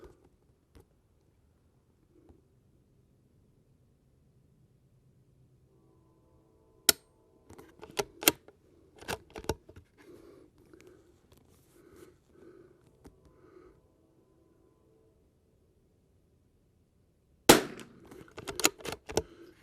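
Christensen Arms Ranger .22 rimfire rifle firing .22 rounds at targets downrange: after a quiet stretch come sharp, fairly close cracks at irregular intervals, then a tight cluster of shots near the end.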